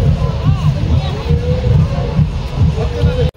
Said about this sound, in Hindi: तो यहाँ हो चुका है भीड़